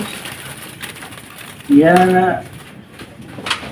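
A zebra dove (perkutut) gives one clear, close, warbling coo in the middle, a brief burst over background room noise and someone talking.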